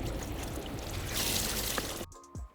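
Running water pours and splashes as ice-dyed t-shirts are rinsed, a steady close gush that cuts off abruptly near the end, leaving a brief quieter clatter.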